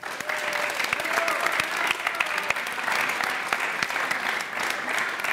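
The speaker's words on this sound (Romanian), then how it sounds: "aplauze pentru Ana" A television game-show studio audience applauds for Ana, who placed second, with sustained, even clapping throughout and faint voices beneath.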